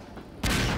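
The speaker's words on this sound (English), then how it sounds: "Let's just watch the explosions ensue here." Gunfire and explosions from the video game Half-Life 2 burst in suddenly and loudly after a quieter stretch of low background noise, filling the rest of the moment with dense, sustained combat noise.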